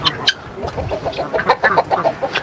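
A farmyard rooster among a flock of hens clucks in a rapid run of short, close calls, joined by other chickens, with faint voices in the background.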